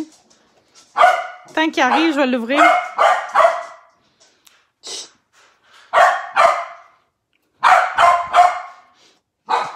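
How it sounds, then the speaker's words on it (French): An indoor dog lets out several sharp barks and a yelping whine in short bursts, close and loud, while someone speaks quietly in between. "Désolée pour le chien."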